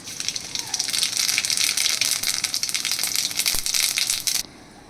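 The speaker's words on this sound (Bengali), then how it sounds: "এবার এইখানে দেবো জিরে আর কালো জিরে ফোড়ন" Cumin and nigella seeds hit hot oil in a bright, crackling sizzle that runs loud and close for several seconds, then cuts off abruptly into near quiet.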